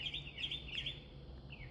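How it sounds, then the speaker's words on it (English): Birds singing at sunrise, a few short high chirps and trills repeating quickly, faint and somewhat distant over a low background rumble. "My beautiful birds are singing."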